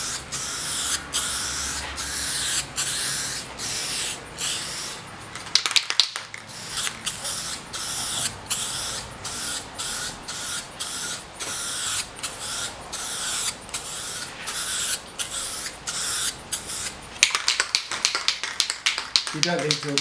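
Aerosol finish sprayed in a thin, even coat onto wood veneer on a vintage hi-fi cabinet, heard as repeated close hissy bursts in steady strokes with brief gaps between passes, loud and continuous through the clip.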